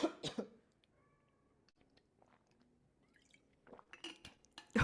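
A couple of sharp coughs up close during a piano lesson, then near silence with faint clinks, before more rough, throaty sounds at the end.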